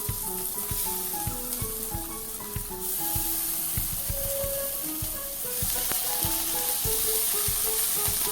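Green chilies are laid into hot oil seasoned with asafoetida and sizzle steadily and close up, a constant hiss broken by light tapping and stirring clicks, with no voices.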